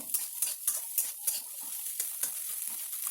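Egg bhurji is stirred and broken apart in a hot pan, with quick repeated spatula scrapes over a steady, bright, close sizzle that continues throughout.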